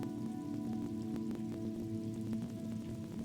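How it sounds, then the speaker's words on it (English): Steady rain patters on surfaces in the video game Disco Elysium, a dense continuous wash with a faint tonal hum beneath and no voices. "Stuck in the rain in a traffic jam"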